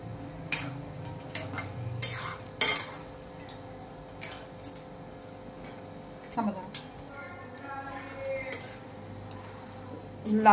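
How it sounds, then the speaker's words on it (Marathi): A spoon stirs and clinks against a pot of thick jaggery porridge mixed with dry fruits and cardamom powder, giving sharp scattered taps and scrapes while someone talks over the cooking. "आणि सगळं मिश्रण एकत्र व्यवस्थित करून घेऊया।"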